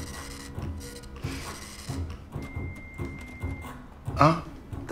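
A printer whirs and clatters in rhythmic passes, with a brief louder mechanical burst near the end.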